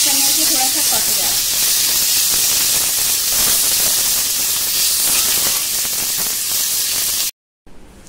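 Tomatoes sizzle in a hot pan as they cook, giving a loud, steady hiss that runs without a break and ends with an abrupt cut near the end, while a voice speaks faintly at the start.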